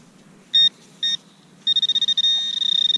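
High-pitched metal detector tones signaling a possible coin: two short beeps, then a sustained warbling tone that pulses rapidly, over a low background rumble.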